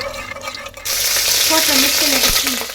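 Kasuri methi frying in a hot pan for a simple mushroom biryani, a quiet rustle that breaks into a loud, steady sizzle after the first second, with a few stirring scrapes.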